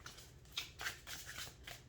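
Cards of an astrology oracle deck are shuffled by hand, giving a soft, continuous papery riffle with a few brighter snaps, close and alone.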